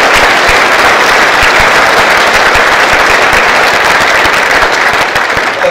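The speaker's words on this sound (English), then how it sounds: "Let's give them a round of applause." A loud, sustained round of applause from the audience at a medal award ceremony, dense clapping filling the room without a break.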